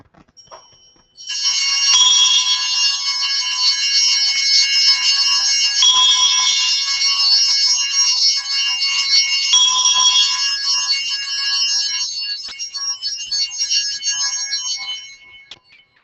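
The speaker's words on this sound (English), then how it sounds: "Do you notice that he didn't stop ringing his bells until it has landed on the altar table?" Altar bells ring continuously during Mass training at St. Christopher, a bright, sustained shimmering jingle lasting many seconds, fairly loud and steady before fading out near the end.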